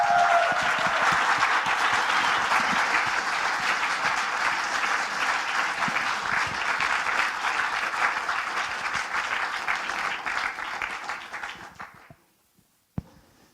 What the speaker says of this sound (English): Let's start with a round of applause to welcome the first team of this morning